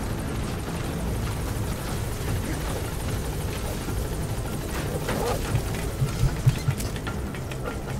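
A helicopter in the video game Metal Gear Solid V drones steadily with a dense, continuous rotor roar, loud and close throughout, with a few faint knocks near the end.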